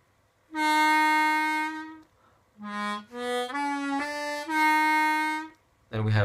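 Harmonica tones in a minor blues lesson, a sustained held note followed by several short notes, the third-hole draw bent down a step and a half, loud and close, alone without talk.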